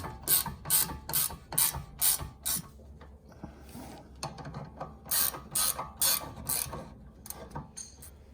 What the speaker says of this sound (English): I'm just going to take a socket and tighten these front bolts now